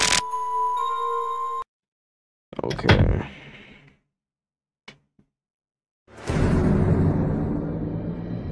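A phone rings in the Five Nights at Wario's 2 horror video game with a steady electronic tone, followed by silence, a sharp clunk, and a loud burst of rushing noise.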